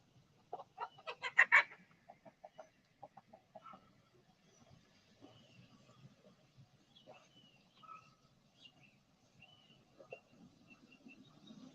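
A backyard rooster gives a burst of loud clucks at the start, then scattered softer clucks and chicken calls follow over faint background noise, no talking.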